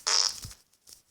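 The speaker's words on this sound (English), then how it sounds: "Do fart piano." A fart piano toy gives a short, loud, hissing fart burst that fades out, followed by a faint little puff, heard close.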